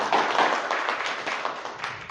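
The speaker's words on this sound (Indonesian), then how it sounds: "Kita kasih tepuk tangan buat Mas Alan ya" A small group claps for a presenter in a short, sparse round of applause, individual claps audible in an uneven rhythm, moderately close and fading quickly.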